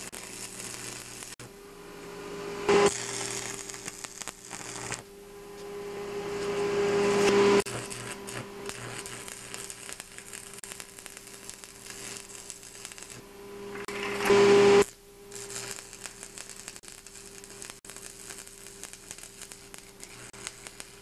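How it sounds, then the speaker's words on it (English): AC 225 stick welder burning a 7018 rod on rusty metal, a continuous crackling, sizzling buzz with a steady hum, pausing briefly between a few runs of welding. "I've got my AC 225 welder there, stick welder, and I'm going to use a 7018 rod"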